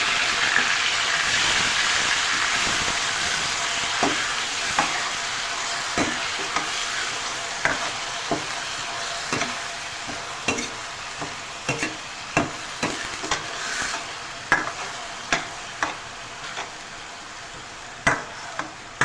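Finely chopped onion frying in oil with browned garlic for a millet chutney, a steady loud sizzle running throughout, with repeated stirring scrapes and clicks of a utensil against the pan growing more distinct toward the end.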